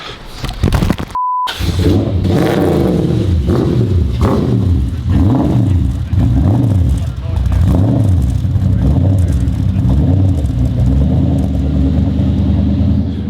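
A JDM car's V8 engine, not running smoothly, rumbles loudly at idle, then revs up and down in repeated swells, its deep burbling exhaust dominating throughout.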